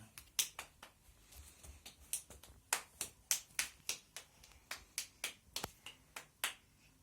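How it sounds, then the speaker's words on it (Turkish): A young boy claps for himself after finishing an educational game, a close run of quick, uneven, sharp claps with no talking. "Alkışla kendini"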